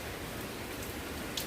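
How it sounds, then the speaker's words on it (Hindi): Steady rain falls in Jamshedpur, Jharkhand, a soft even patter of drops on surfaces that carries on without a break, with one slightly sharper drip near the end and no voices. "आज बारिश हो रही है जमशेदपुर में, झारखंड के जमशेदपुर में बारिश हो रही है कल रात से ही।"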